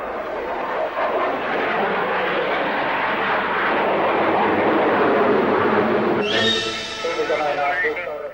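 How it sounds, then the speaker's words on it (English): A single aircraft flying a display in a Soviet air power show, its engine roaring loud and steady for several seconds before a rising, brighter whine as it passes nearby. "An interesting display was put on by a Singleton aircraft."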